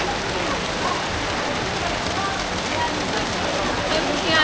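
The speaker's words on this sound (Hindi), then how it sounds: "बारिश तेज़ आ गई है" Heavy rain pours steadily in Ubud, Bali, a dense, even hiss of drops on surfaces that fills the whole stretch without letup.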